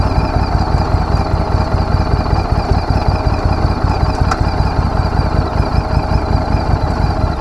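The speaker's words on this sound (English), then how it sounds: "I'm going to pause, let you hear the engine" A 2017 Harley Davidson Street 500 motorcycle engine runs at a steady idle, loud and close, with an even rapid pulsing throb and no speech.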